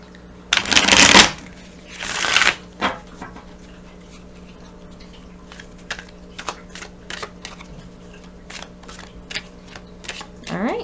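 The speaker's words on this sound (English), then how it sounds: "Give them one good shuffle." Tarot cards are shuffled in short, loud riffling bursts near the start, then lighter scattered taps and card handling follow, ending on one more quick riffle.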